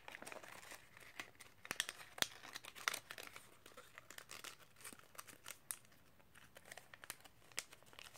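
Paper folded into an origami praying mantis gives off quiet, close crinkles and sharp creasing snaps, irregular and scattered throughout.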